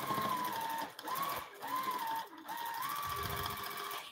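Automated quilting sewing machine running an edge-to-edge design on a Cutie quilting frame, a steady, close motor whir with rising and falling pitch as the head moves, briefly dipping between passes, with no talk.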